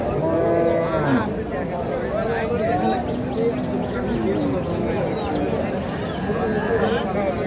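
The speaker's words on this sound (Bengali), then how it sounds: "এই যে সুন্দর একটা বাচ্চা, আর এটা গাভী।" Dairy cows and calves at a cattle market low and moo repeatedly, close and loud, while people talk nearby and the market murmurs underneath.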